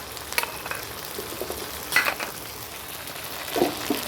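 Onion frying in a pan with ginger garlic paste and chili gives a soft, steady sizzle, broken by a few sharp spatula scrapes and clinks spaced through the moment.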